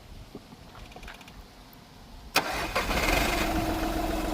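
A red 2014 Volkswagen Polo diesel car starts after a quiet lead-in: one sharp crank catches at once and settles into a close, steady idle that grows slightly louder.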